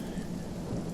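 Steady rainfall effect in the video game Divinity: Original Sin, a continuous hissing patter with a low rumble underneath, moderately quiet and unbroken.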